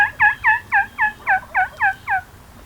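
A wild turkey calls on Montana public land in a clear, fairly close series of about nine evenly spaced, two-toned calls lasting under three seconds, with no talking.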